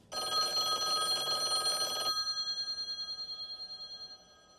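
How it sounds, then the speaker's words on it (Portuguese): A telephone bell ringing loudly for about two seconds, then stopping and leaving a fading metallic ring that decays over the next two seconds; no voices. "o telefone tocou."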